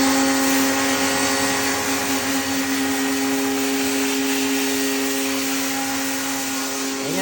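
Pressure washer motor running while cleaning an LG automatic washing machine after five years of use, a loud, steady, high-pitched mechanical whine with a constant hum, unbroken throughout and without speech.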